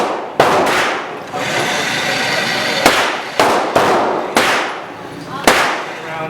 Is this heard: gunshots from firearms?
yes